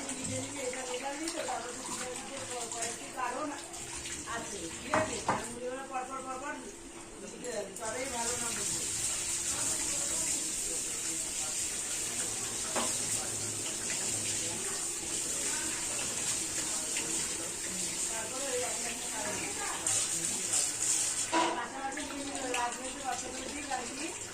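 Water runs and splashes steadily from a tap or hose while potted plants are being watered, a continuous close gushing hiss, with someone talking over it.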